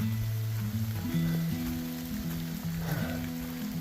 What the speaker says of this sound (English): it is officially raining again.